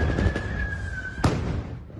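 At a protest in Enerhodar, a stun grenade goes off in one sharp, loud bang near the middle, following a sustained whistling tone and murmuring crowd noise.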